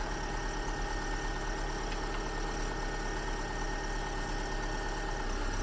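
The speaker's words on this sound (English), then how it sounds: "the compressor just kicked on" A car's air-conditioning compressor runs steadily during refrigerant charging, a constant faint mechanical hum and whir with no change across the few seconds and no talk.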